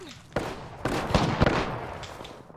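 Gunshots in an online video game, a few sharp reports about a second apart, moderately loud amid background game noise.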